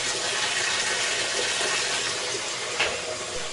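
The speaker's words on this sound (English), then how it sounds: "the washer starts filling properly" Whirlpool washing machine filling with water, a steady hissing rush of inflowing water that stays even and moderately loud throughout, with no voices.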